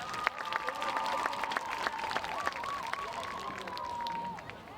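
A crowd at a high school football homecoming applauds and cheers for a court representative. The applause is steady and mid-distance, with a whistle-like tone running through it.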